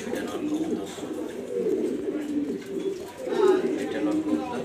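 Pigeons coo steadily throughout at a loft in Mirpur 2, Dhaka, where seventeen pairs of male and female birds are kept, a continuous low warbling chorus from several nearby birds.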